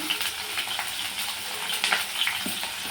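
Peanuts and green chilies roasting in a pan give a steady sizzle, with scattered crackles and scraping stirs over about three seconds, close and moderately loud, no talking.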